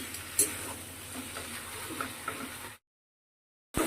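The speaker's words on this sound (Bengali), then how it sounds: "এর মধ্যে একটু চিনি দেবো, দিয়ে ভালো করে মিশিয়ে নামিয়ে নেবো" A spoon stirs sugar into vegetable curry in a pan, giving a steady soft scraping and sizzling texture with a sharp knock near the start, then cutting off into silence before a brief burst returns at the end.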